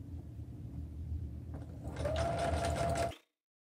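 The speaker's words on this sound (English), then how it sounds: "you'll sew from your sleeve all the way down your side" A sewing machine runs a long stitch from a garment's sleeve down the side seam. The motor hums steadily, then speeds up into a louder whir before cutting off abruptly, with no talking.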